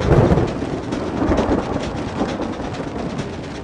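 Thunder rumbles over steady rain in a storm sound effect, a broad roar that swells at the start and holds loud and continuous throughout with no voices.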